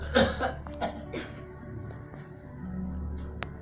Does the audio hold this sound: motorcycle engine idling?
no